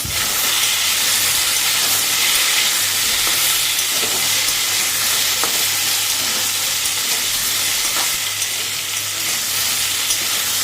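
Mukhi kochu (taro) pieces with onion fry in a hot pan, giving off a loud, continuous sizzle and hiss with faint stirring, and no voices.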